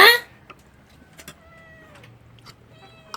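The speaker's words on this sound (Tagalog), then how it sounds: "Maingay na naman yung pusa ko." A few soft cat meows come through faintly over a quiet room, with a sharp noise at the start and small clicks between.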